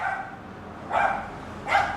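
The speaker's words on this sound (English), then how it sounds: "dog barking in the car going for a ride." A dog barks inside a car going for a ride, two loud close barks spaced under a second apart over a soft steady cabin hum.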